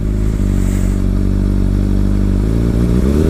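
Ducati 1199 Panigale S engine running steadily at speed, a loud, continuous low exhaust drone with a brief shift in pitch near the end as the bike is ridden.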